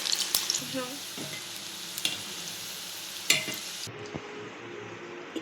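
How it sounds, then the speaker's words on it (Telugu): Vegetable Manchurian balls fry in hot oil until golden, a steady close sizzle with occasional sharp pops and a soft scrape or two, no voices present. "ఇవి గోల్డెన్ కలర్ వచ్చేంత వరకు ఫ్రై చేసుకోవాలి"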